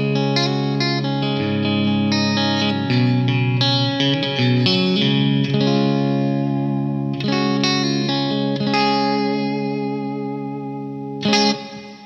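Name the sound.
electric guitar through Wampler Black '65 pedal, bright chimey tone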